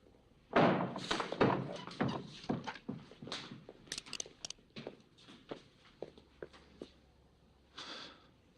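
A back door opens and shuts, with heavy thuds, a slam and a run of clunks and footsteps close by, followed by a few quieter knocks; no speech.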